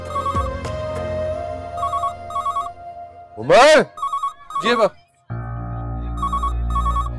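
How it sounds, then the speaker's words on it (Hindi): A telephone rings in short repeated bursts of bright bell tones, interrupted by louder swooping electronic sounds and a brief dropout, while a voice speaks over part of it. "फोन बज रहा है"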